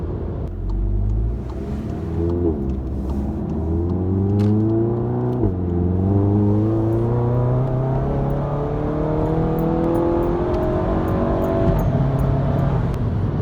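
A VW GTI Mk7 with a DSG gearbox accelerates, the engine revving in rising sweeps as each gear is held high before quick shifts, a steady nearby drone from inside the car with no talk.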